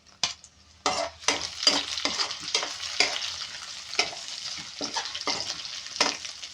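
Ginger and small green chilies frying in a pan, sizzling steadily while a utensil stirs and scrapes in irregular strokes, close and fairly quiet.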